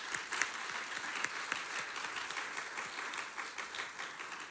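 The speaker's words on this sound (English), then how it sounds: "one more big round of applause to all of our candidates tonight" An audience claps for the mayoral candidates at a chamber of commerce candidate forum, a steady round of applause from a room of people that holds at an even, moderate level throughout.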